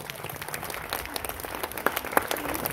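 Students are applauded at a classroom honoring ceremony, with a steady patter of clapping from a small group and a few sharper claps standing out, heard at moderate volume.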